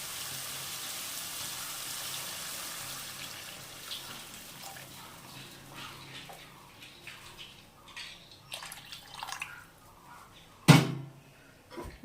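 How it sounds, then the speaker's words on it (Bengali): Water pours into a simmering curry of river boal fish with potato and bitter gourd, a hissing rush at first that fades into quieter bubbling and a few clinks and knocks. "এবার আমি জল দিয়ে দেবো পরিমাণ মতো"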